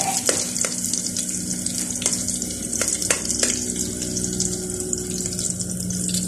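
Garlic frying in a pan with tomatoes nearby, giving a steady dense sizzle with a few sharp clicks and scrapes of stirring throughout, close and fairly loud with no talk.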